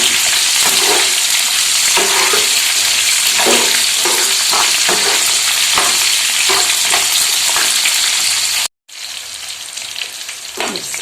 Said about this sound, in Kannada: ಇದು ಸ್ವಲ್ಪ ಕಲರ್ ಚೇಂಜ್ ಆಗೋ ತನಕ ಬೇಯಿಸ್ಕೋಬೇಕು